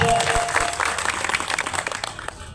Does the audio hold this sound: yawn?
no